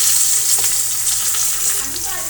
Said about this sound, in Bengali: পটল দিয়ে আমরা ডিম দিয়ে পটল ভাজি করবো